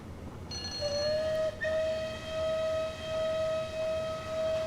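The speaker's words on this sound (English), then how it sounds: "Don't walk in front of a steam train." A steam train in the Merchant Navy game lets out a long, steady whistle that holds a clear pitch for several seconds, loud and close over a low rumble.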